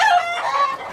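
Rooster crowing and hens clucking as farm fowl, a loud, bright call rising and falling over about a second, heard alone without talk.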